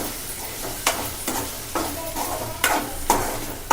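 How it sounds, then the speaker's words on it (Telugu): Spinach and tomato curry stirred in a sizzling pan after salt goes in, a steady frying hiss broken by regular spoon scrapes roughly every second, close and fairly loud. "ఇప్పుడు ఒకసారి మిక్స్ చేసుకుందాం"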